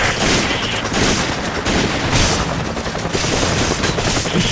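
Resident Evil 5 versus-mode gunfire crackles in rapid, dense bursts, loud and near, with repeated shots and volleys overlapping throughout.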